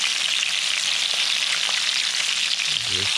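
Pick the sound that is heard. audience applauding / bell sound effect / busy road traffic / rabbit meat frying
rabbit meat frying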